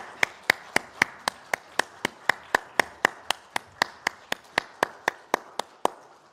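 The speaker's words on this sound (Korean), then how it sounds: "하나님께 영광의 박수 올려드리겠습니다." A congregation at a Sunday worship service claps in unison, producing a steady, evenly spaced rhythm of about three sharp claps per second, close and clear with no talking.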